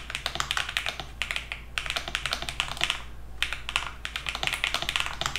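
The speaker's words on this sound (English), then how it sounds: "I really like the typing experience of the original Flow as well as the new Lite model." Rapid close-up clacking of typing on a Lofree Flow Lite gasket-mounted mechanical keyboard, bursts of dense key taps separated by short pauses, crisp and alone with no talking.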